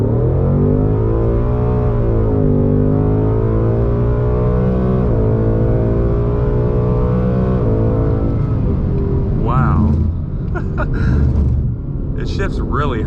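A 2020 Ford Mustang GT with a 91-octane tune accelerating hard, its engine droning loudly and rising through gears, heard from inside the car, with a voice talking near the end.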